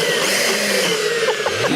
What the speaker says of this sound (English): So you use a hand blender as well.